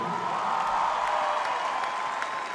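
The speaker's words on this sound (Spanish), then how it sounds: "Aplauso, aplauso" Crowd applause at a concert in Viña del Mar, a steady wash of many hands clapping at moderate distance, continuous throughout with no clear speech.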